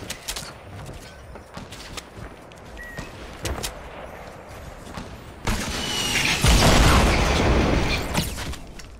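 Video game gunfire crackles in scattered bursts, building into a louder, denser barrage toward the end.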